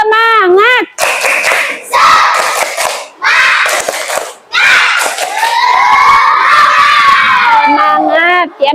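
Schoolchildren in an Islamic religious studies class perform a rhythmic clapping chant, with bursts of group clapping broken by short gaps and loud children's voices shouting and singing over and between the claps.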